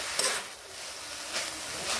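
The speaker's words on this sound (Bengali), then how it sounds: "আরও একটু নেড়ে নিচ্ছি শাকগুলো এইভাবে।" Jute leaves stirred in a hot pan with salt and turmeric, a soft constant sizzle broken by a few brief scraping strokes of the spoon.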